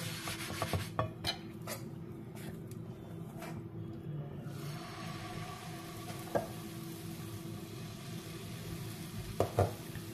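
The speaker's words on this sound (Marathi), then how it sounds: "तवा पुसून घेऊया" Scraping and wiping across a hot griddle pan sprinkled with salt water, with faint sizzling underneath and a few sharp scrapes near the end.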